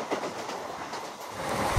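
A MEMU express train runs along the track, its steady broadband rumble and rolling rail noise close and continuous, swelling slightly toward the end.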